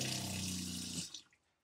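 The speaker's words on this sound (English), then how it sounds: "it is operated by an electric pump turned on here" Water running from a van kitchenette faucet fed by an electric pump, a steady hiss of flow that cuts off abruptly near the end, leaving a few faint drips.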